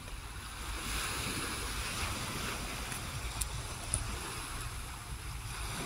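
Calm sea waves washing steadily and softly, a continuous low surf with some wind rumble on the microphone, no voices.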